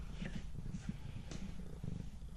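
A cat purrs close by in a low, steady, rumbling purr with soft rhythmic pulses and nothing else over it.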